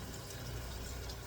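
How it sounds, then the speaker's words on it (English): Milk and half and half pour into a pan for a beef stroganoff, making a soft, steady liquid trickle and splash throughout, faint and close. "Then I'm going to add the milk in the half and half."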